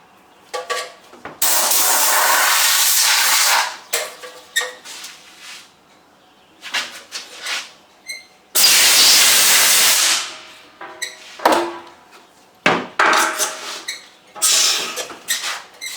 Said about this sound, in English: So, gonna clean her out with compressed air.